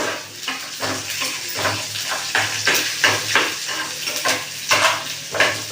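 Curry leaves and turmeric fry in hot oil with a lively, steady sizzle, joined by rhythmic stirring scrapes and light clinks of a utensil against the pan.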